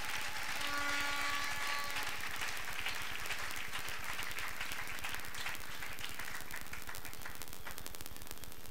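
Church congregation applauding and cheering, a dense, steady wash of clapping that carries on throughout, with a brief tonal sound near the start and no speech over it.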